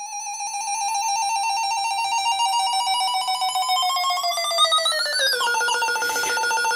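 A buzzy synthesized electronic tone from an Atari Punk Console with layered harmonics holds steady, then wobbles and bends upward near the end with an LFO-style modulation, playing alone without voices.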